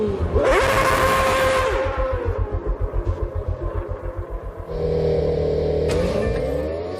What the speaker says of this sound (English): deliberately spins his rear tyres to make them hotter and stickier